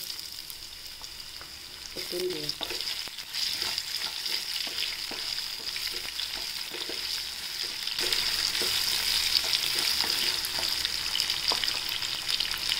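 Raw mango pieces fry in a pan for a sweet and sour pickle, giving a steady close sizzle with occasional stirring clicks that grows slightly louder and brighter partway through.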